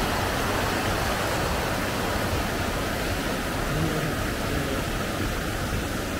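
A waterfall roars as a steady, dense rush of water, loud and unbroken for the whole stretch with no voices over it.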